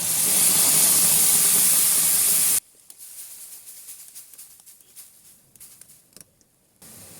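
A paste of green chili and tomato hits hot oil in a pan already holding whole garlic cloves and a little salt, first a loud, dense sizzling hiss, then an abrupt drop to softer crackling and spattering.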